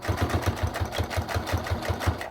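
A sewing machine topstitches fabric for a scrap keychain about an eighth of an inch from the edge, a steady rapid mechanical thumping at roughly five stitches a second, close and unaccompanied.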